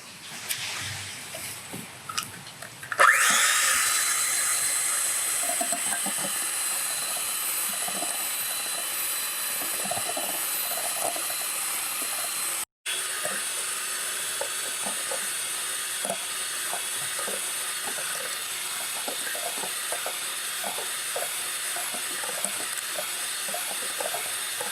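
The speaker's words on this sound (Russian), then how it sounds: "начнем заливать оставшееся масло и также взбивать на" A high-speed electric mixer whirs loudly and steadily as it whisks homemade mayonnaise while oil is poured in, a continuous hissing drone broken by one brief cutout.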